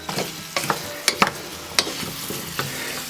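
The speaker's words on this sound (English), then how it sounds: "We're just going to move them around so they get coated with the onions and the butter and oil" Pumpkin pieces are stirred in a pan with soft onions, butter and oil, giving several sharp utensil clacks and scrapes over a light, close sizzle, with no one speaking.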